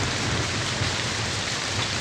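Steady heavy rain falling, a dense continuous hiss of drops on surfaces, loud and unbroken with no voices.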